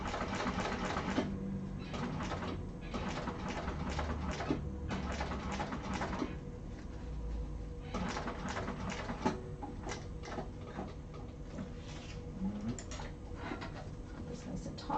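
A sewing machine stitching a wallet runs in rapid mechanical bursts with short pauses between runs, close and steady throughout.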